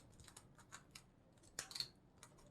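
Pinking scissors snip through a paper cup while making a paper-cup carnation, giving several light crisp cuts, then a sharper cluster of close snips near the end, with no talk.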